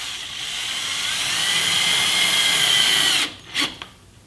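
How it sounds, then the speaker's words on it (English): A power driver whines steadily at high speed, sinking small screws through matting into a Jeep rear storage shelf, then stops and is followed by a couple of short, quieter bursts near the end. "I'm just going to put some small screws in here to hold this matting down."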